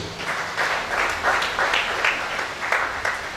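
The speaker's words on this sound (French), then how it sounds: "Acclame pour Jésus." A church congregation at a worship service in Gabon applauds together, a dense, steady wash of many hands clapping with a loose rhythmic pulse, continuous and fairly loud throughout.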